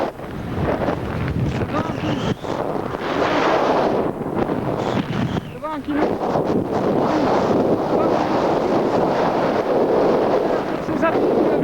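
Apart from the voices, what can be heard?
strong wind blowing on an Alpine ridge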